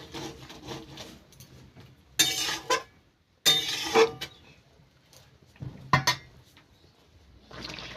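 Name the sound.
stirring cauliflower potato curry in a pot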